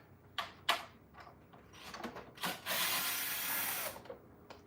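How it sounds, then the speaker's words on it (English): Screws are worked out of a Hoover vacuum cleaner with a few faint metallic clicks and ratcheting turns, then a short, steady power-driver whir close by, with little else around. "I'm gonna first take these first two screws out here."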